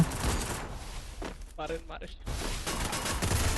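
Rapid P90 submachine gun fire crackles in the Free Fire battle royale game, with dense bursts at the start and again toward the end. A short pause in the middle is filled by a voice talking.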